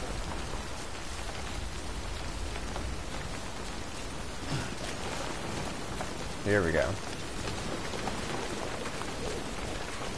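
Steady, heavy wind-driven rain from the video game Death Stranding hisses throughout, a dense, even downpour with someone briefly speaking over it.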